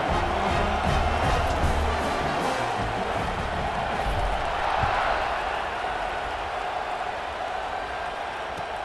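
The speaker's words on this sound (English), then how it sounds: "this crowd now ready to get behind them" A stadium crowd roars with a steady cheering wash at kickoff in the EA Sports College Football 26 video game, Carolina against Colorado, sustained and loud throughout.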